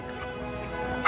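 Dogs at a dog park giving a short, loud bark near the end, over a busy background of other dogs and people talking.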